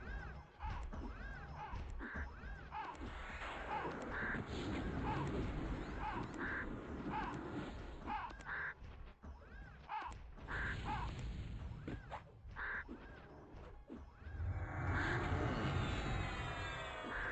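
Repeated crow caws in the EverQuest online role-playing game, a steady series of harsh calls over continuous game ambience and combat clatter, moderately loud throughout.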